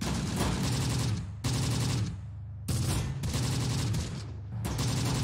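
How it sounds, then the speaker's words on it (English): Gunfire in the Close Combat: The Bloody First war game, sustained bursts of rapid automatic fire and dense volleys broken by brief pauses, loud and continuous with no voices. "Everybody's still shooting"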